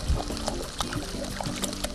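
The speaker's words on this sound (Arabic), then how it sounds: "ما بدنا ننسى البشاميل" Creamy béchamel sauce poured into a large pot while cooking spinach for spinach pies, giving a short, soft, continuous liquid pouring sound close by with small clinks of cookware.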